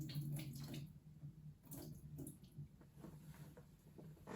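Tap water runs faintly into a container, a steady low splashing and trickle that continues without talk.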